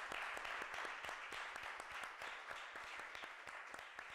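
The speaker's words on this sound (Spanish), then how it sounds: "A mí me gustaría dar un aplauso al público" An audience applauds at an exhibition event in Spain, many hands clapping in a quick, steady patter that holds evenly throughout, soft and a little distant.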